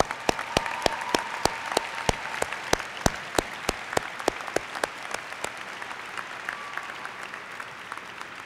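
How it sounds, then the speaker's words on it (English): Applause from the audience at a December graduates' commencement convocation, honoring families and supporters: a crowd clapping steadily for several seconds, with louder distinct claps standing out, then fading as the clapping thins toward the end. "giving them a very warm round of applause"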